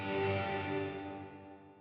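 Guitar played through a Line 6 Helix dynamic bloom reverb, a sustained note or chord whose harmonics ring steadily and swell softly rather than striking hard, fading gradually over a couple of seconds, alone with no talking.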